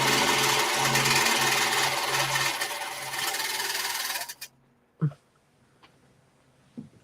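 Sewing machine stitching fabric, a loud steady close whirring run for about four seconds that cuts off abruptly, followed by a couple of isolated clunks in near silence.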